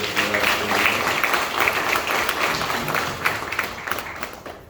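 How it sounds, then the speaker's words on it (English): Sustained applause from an audience at a service honoring former Howard University President Dr. Wayne A. I. Frederick, a dense, loud wash of clapping throughout, with faint crowd murmur mixed in. "let's give a round of applause for the prior speakers"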